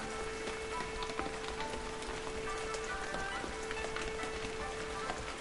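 Rain in the video game Shenmue 3 pattering steadily onto surfaces, dense drops with occasional sharper splashes over a faint tonal hum, continuous and even with no one speaking.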